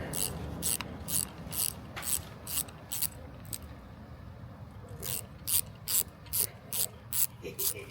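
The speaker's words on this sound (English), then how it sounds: "You have to use this 3/16 bit right here to take this off so you can install the link right there." A ratchet driving a 3/16 bit removes bolts while a short-throw shifter is installed on a 2019 Corvette C7 Z06. Bursts of rapid, close clicking come in repeated strokes, with a quiet pause midway before the rhythmic cranking resumes.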